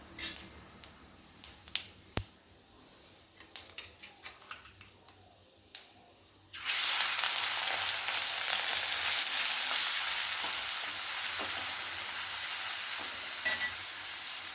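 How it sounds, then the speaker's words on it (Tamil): Fennel seeds crackle sparsely in a pan with scattered sharp pops. Then marinated prawns go in and a sudden loud, sustained sizzle takes over and carries on to the end, with no voices. "சோம்பு பொறிஞ்சு வர நேரத்தில் நாம் இந்த மேரினேட் பண்ணி வச்சுருக்கிற ப்ரானை போட்டுடலாம்"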